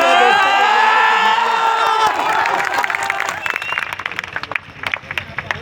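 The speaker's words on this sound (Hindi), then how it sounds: "उसका सम्मान इतना बजे तालियों के माध्यम से कि उसे भी लगे कि मैं सही जगह आया हूँ" Audience at a kavi sammelan poetry gathering at DPS Dhanhara college in Sitamarhi bursts into loud, dense clapping and cheering, which thins after a couple of seconds into scattered, uneven claps.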